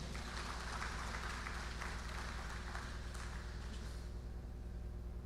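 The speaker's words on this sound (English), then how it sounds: "I believe we can make the applause a bit louder for the Honorable Minister of Science, Technology, and Innovation." A crowd applauds for a government minister at a public launch event, with a continuous, even wash of clapping from many hands that sounds fairly distant and soft.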